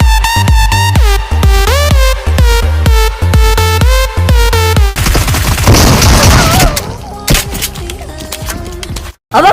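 Rapid gunfire bursts and booms in a battle royale game, shotgun blasts among them, loud and close, mixed over tonal game music and effects with a short cut to silence near the end.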